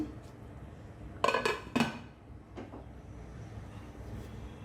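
A metal lid is set over a cooking pot of jute greens with lentils, giving two or three quick clattering clanks close by, followed by fainter knocks over a quiet kitchen background.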